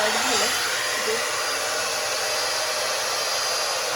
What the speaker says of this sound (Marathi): तर या हेअर ड्रायरमध्ये ना इथे 3 हीटचे कंट्रोल आहेत आणि 2 स्पीड कंट्रोल आहेत.